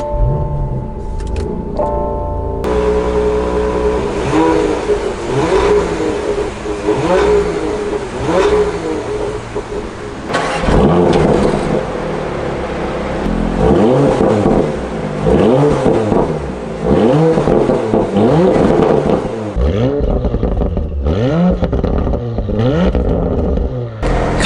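A 2020 Porsche Macan Turbo engine cranks and catches, then revs repeatedly, the loud roar rising and falling in bursts over about twenty seconds.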